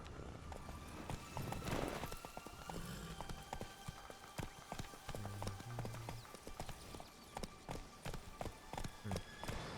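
Horse hooves clip-clopping at a gallop in The Witcher 3: Wild Hunt, a steady run of hoof beats over game ambience with faint rain-like patter, with no voices heard.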